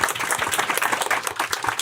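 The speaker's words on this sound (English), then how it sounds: "You can keep clapping if you want." Audience clapping at a live podcast book launch event, a steady dense wash of applause from a crowd that carries on without letup and is heard on its own.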